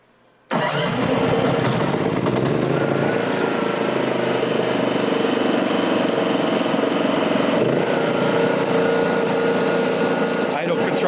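A Pioneer 3 unit engine fires up abruptly after a brief silence, then runs at a loud, steady drone close by with no letup.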